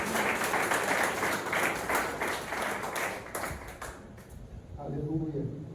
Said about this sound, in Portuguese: Palmas para Jesus, amém?